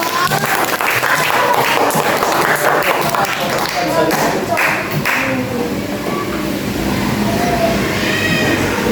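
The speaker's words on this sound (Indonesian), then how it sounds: "kasih tepuk tangan untuk kelompok 3" A classroom of sixth-grade pupils claps for a group that has just presented, steady dense applause filling the whole stretch with chatter and voices mixed in.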